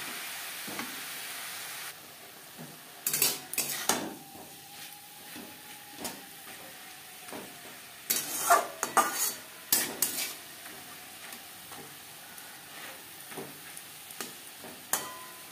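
Spinach being stirred together with pumpkin and eggplant in a pan over high-to-medium flame, with repeated scraping and clinking strokes of a spatula over a soft background sizzle, no talking.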